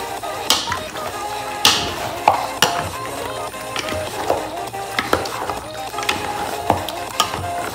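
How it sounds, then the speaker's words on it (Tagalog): Beef kaldereta being stirred in a pot, with repeated sharp scrapes and clinks of a utensil against metal over a soft simmering bubble, up close and without talk. "Then, haluin natin."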